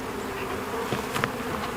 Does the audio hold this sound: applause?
no